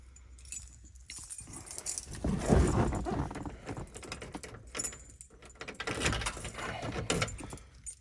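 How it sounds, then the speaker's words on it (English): A ring holding about five keys jangles in bursts of metallic clinks and rattles, close and irregular, with brief pauses between shakes. "I got like 5 keys on the ring, so."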